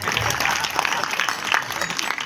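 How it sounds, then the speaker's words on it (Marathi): An audience claps together for the singers and musicians at a live singing performance, a dense, steady burst of applause close by throughout. "सगळ्यांनी सगळ्यासाठी एकदा टाळ्या वाजवा"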